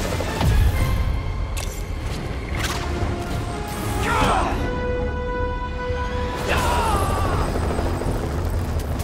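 Helicopter in the Spider-Man PS4 video game, a loud droning rotor hum mixed with heavy crashes, booms and mechanical clanks across the whole stretch.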